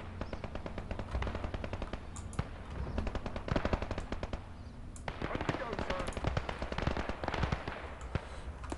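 A flak gun fires rapid, continuous bursts during a Gates of Hell: Liberation battle in the hedgerows, with sharp, close reports packed densely across the whole stretch and a voice talking over the gunfire.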